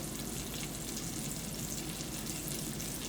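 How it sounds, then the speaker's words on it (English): Onions frying in a pan give off a steady, dense sizzle that holds an even loudness throughout, close up with no talking. "Okay, the onions are cooking."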